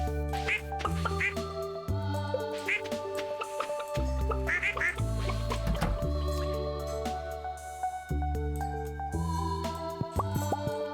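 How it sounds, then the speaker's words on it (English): Cartoonish duck quacks from the Stardew Valley farming game sound in short repeated bursts over cheerful game music, with a voice talking throughout. "Ducks are cute."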